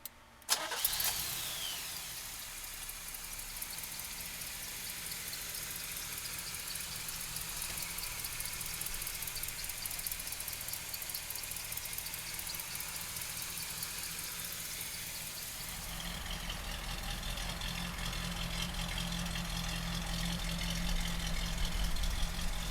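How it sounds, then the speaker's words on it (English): A 1973 Chevrolet Camaro's small-block V8 cranks and fires up, then settles into a steady, rumbling idle that grows a little deeper and fuller near the end. "so listen to the small block"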